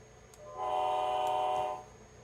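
Amtrak-style train horn from a model Union Pacific CA-9 caboose sound system, a steady multi-tone chord holding for about a second and a quarter, moderately loud over faint background hiss.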